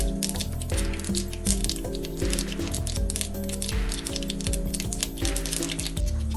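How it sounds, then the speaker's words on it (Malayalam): A teaspoon of mustard seeds splutters in about three tablespoons of hot oil for a Kerala red cowpea thoran, giving rapid, irregular crackles and pops close by, with no talk. "ഇതിലേക്ക് ഒരു ടീസ്പൂൺ കടുക് ഇട്ട് പൊട്ടിക്കാം"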